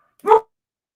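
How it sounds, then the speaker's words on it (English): A single short dog bark rings out once, close and clear, against otherwise complete silence. "he's got dogs barking"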